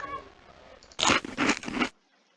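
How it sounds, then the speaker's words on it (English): An orc chewing in the video game Geneforge 2: a quiet lead-in, then three close crunchy bites in quick succession lasting about a second before fading to silence. "Probably an orc chewing."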